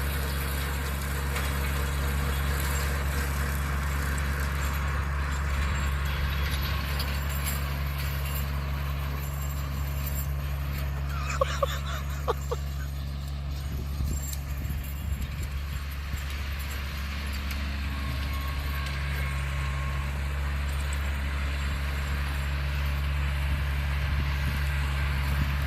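A tractor fitted with a bush hog rumbles at a steady idle close by, its low drone continuous throughout, with a few faint clanks partway through.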